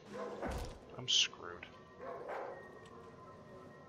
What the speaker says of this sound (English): But no, it's just a dog.